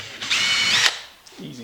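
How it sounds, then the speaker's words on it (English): A power drill with a 3/16 drill bit bores into a compost tumbler lid during a repair, one short close whirring burst lasting under a second, followed by a faint mechanical click. "All right, 3/16 drill bit."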